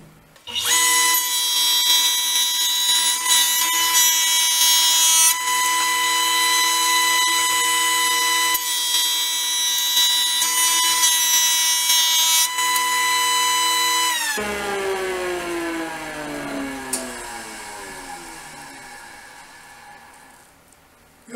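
A power tool makes continuous passes across a rough wooden board for a decorative table, giving a steady, loud, high-pitched whine that shifts pitch partway through as the tool spins down and restarts.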